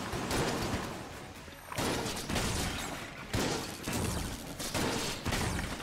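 Rapid pulses of shots from Enter the Gungeon, the twin-stick dungeon shooter, come in repeated loud bursts with short gaps between them, blending into the busy game's sound effects.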